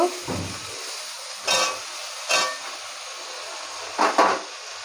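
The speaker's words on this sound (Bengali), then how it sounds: "টমেটোর পেস্টটা দিয়ে দিলাম ভালো করে কষাতে হবে যাতে না টমেটোর কাঁচা গন্ধটা থাকে" Tomato paste frying in hot oil in a pan, stirred with a wooden spatula in several short scraping bursts over a steady sizzle, close and alone.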